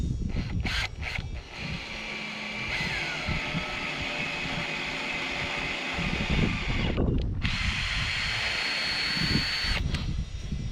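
A power drill tapping new thread holes into a sailboat's mast foot during repair gives a steady, close whirring grind. It pauses briefly near the start and again around the middle, then runs on.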